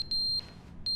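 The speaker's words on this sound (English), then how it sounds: "Is that a smoke alarm?" Loud, piercing electronic alarm beeps, likely from a smoke alarm, repeat in an evenly spaced high-pitched pattern, close and sharp in a quiet room.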